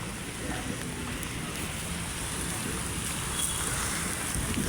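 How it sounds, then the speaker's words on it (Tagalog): Heavy rain pours down along Manila Bay as a dense, steady hiss that stays loud and unbroken throughout. "lakas ng ulan guys"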